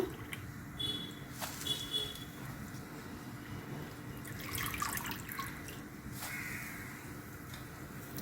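Drumsticks (moringa pods) rinsed in water in a kitchen while a pot boils nearby, with soft dripping and splashing from a tap or sink, quiet and steady with a few brief clinks.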